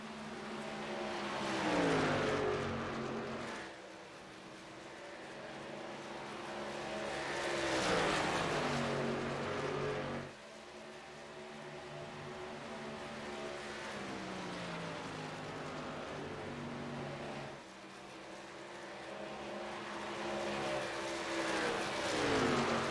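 NASCAR Truck Series race trucks circle Chicagoland Speedway in a strung-out field, engines swelling and fading as they pass, with a continuous loud roar rising in repeated sweeps.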